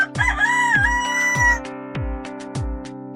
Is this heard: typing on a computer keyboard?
no